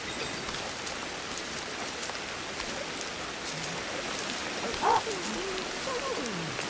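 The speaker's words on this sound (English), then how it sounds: "Is it raining again?" Steady rain hiss fills the scene in the video game Ancestors: The Humankind Odyssey, soft and even, with a brief brighter chirp or splash partway through and no talking.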